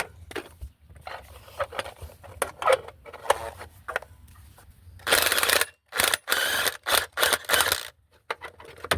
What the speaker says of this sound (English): we're about to break that loose with the ratchet